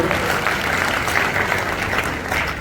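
Audience at a cooperative conference applauding, a dense steady clapping that fills the whole moment, loud and close, with a faint murmur of voices underneath.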